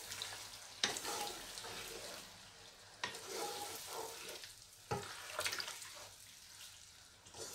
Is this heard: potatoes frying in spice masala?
yes